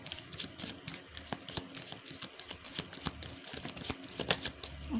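Tarot cards being shuffled, a continuous run of crisp, close riffling and flicking taps in an uneven rhythm, fairly quiet with no talking.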